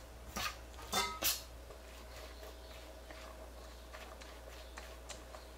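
A spatula tosses Napa cabbage leaves with ginger in a bowl, giving a few close clinks and scrapes early on and then soft, faint rustling over a steady low hum.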